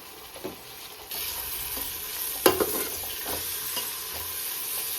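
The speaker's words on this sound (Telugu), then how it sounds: "ఇంకా ఈ అల్లం వెల్లుల్లి పేస్ట్ కొంచెం పచ్చివాసన పోయే వరకు కొంచెం ఫ్రై చేసుకోవాలి ఇట్లా ఆయిల్లోనే" Ginger garlic paste with turmeric frying in oil alongside onions for egg pulao gives a low sizzle that suddenly grows brighter, with a few stirring clinks and scrapes close by.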